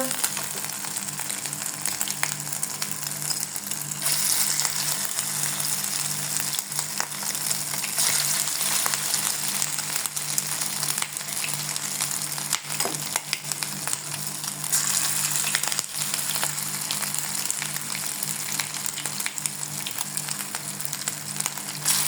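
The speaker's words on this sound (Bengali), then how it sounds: "তেল প্যান বসিয়ে রেখেছি এবং এই প্যানের মধ্যে দেখো আমি একটা একটা করে ছেড়ে দিব" Meat pakoras frying in oil in a pan over lowered heat, a continuous close crackling sizzle that holds steady with occasional sharper pops.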